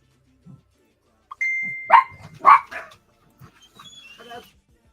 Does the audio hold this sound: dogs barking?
yes